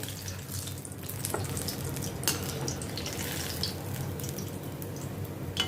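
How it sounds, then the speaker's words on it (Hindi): Onion pakoras fry in hot oil in a kitchen, a continuous close bubbling sizzle with occasional sharper pops and crackles throughout. "इसी तरह से बाकी के भी मैं फ्राई कर लेती हूँ।"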